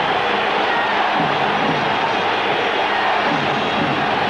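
A packed basketball arena crowd at the 1979 NBA Finals, Seattle SuperSonics versus Washington Bullets, roars in a dense, sustained wash of cheering, loud and unbroken throughout.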